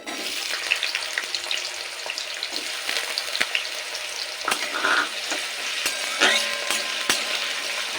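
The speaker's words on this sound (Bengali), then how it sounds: "এ সময় দিয়ে দেব টুকরো করে রাখা আলু" Cut potato pieces fry in hot oil after the tempering spices, a steady close sizzle with occasional stirring clinks and scrapes, no voices.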